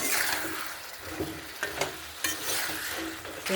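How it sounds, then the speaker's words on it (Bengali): Cauliflower being stir-fried in a village kitchen pan for a fish curry crackles with a soft continuous sizzle, broken by several spatula scrapes and knocks, close but fairly quiet, no voices. "কপিটা ভালো করে কষে নিয়েছি।"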